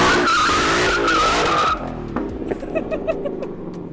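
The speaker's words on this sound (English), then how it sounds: "I think that was the biggest burnout I've ever seen you do" A Ford Mustang does a burnout at a drift event, loud screeching tire squeal over a roaring engine that cuts back midway, leaving rumbling idle and scattered chirps and pops.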